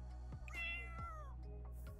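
A cat meows in The Sims 4 video game, one drawn-out rising and falling meow over steady game background sounds, clear and alone with no talking.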